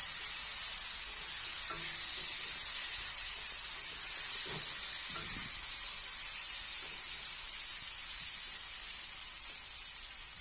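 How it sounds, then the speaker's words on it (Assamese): Potatoes fry in a pan for a fish curry, giving a steady, close hiss of sizzling oil throughout, with a few faint clinks along the way. "ভাজিছো তেতিয়া সোনকালে সিজি যাব"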